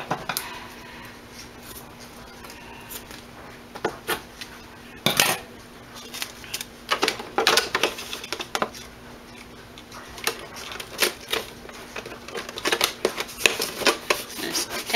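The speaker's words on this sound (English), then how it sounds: "Just tape that on there and rub it pretty good." Gorilla tape pressed and rubbed onto a plastic winter-sowing container: close crinkling, scraping and rubbing bursts over a steady background hum, irregular and moderately loud throughout.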